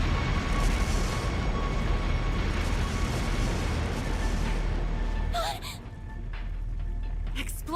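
Explosive artifacts scattered through a palace go off in the Trails through Daybreak video game: a loud, sustained rumbling roar lasting several seconds, then fading to lower rumble with brief sharp effects and a gasp.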